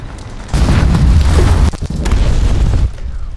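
A bomb explodes close by in a tank video game set around a T-34, a loud sustained boom with rumbling blast noise filling most of the clip, briefly dipping before continuing.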